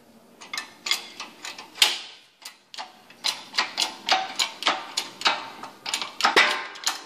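Piston pins from a Ford F100 351 Cleveland engine are pressed out with a brass bronze bar, producing a series of sharp metallic clicks and taps in an uneven rhythm, close and moderately loud.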